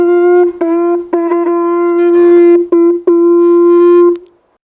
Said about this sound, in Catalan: Una banya de vaca.